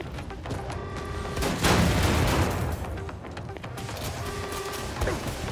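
Enemy gunfire aimed at the player in Wolfenstein 2: The New Colossus, a dense crackling burst with a heavy boom swelling midway, loud against a steady droning game background.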